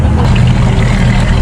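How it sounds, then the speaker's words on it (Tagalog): Motorboat engine idling and pulling away from a dock on a beach outing at Punta Fuego, a steady loud low rumble with water wash, running continuously and close. "Nag-start na yung makina, so"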